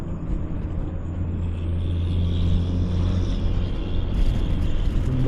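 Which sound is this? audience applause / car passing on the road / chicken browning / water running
car passing on the road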